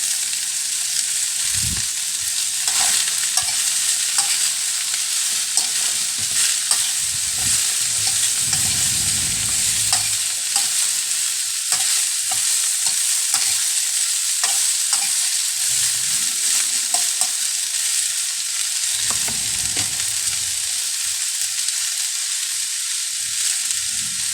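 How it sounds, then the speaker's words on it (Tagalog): Cubed chayote stirred in a frying pan, a steady loud sizzle of hot oil throughout with intermittent scraping and clacking of the utensil against the pan, close up and with no talking. "Halo-haloin lang natin para ma-mix."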